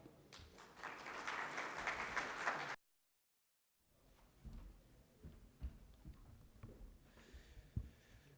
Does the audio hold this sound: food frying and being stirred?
no